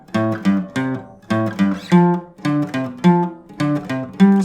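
Guitar riff from a song played openly without palm muting, the notes ringing fuller and louder in a repeating rhythmic pattern, close up and alone.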